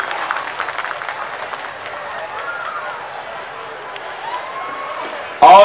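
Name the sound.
audience applause at poetry gathering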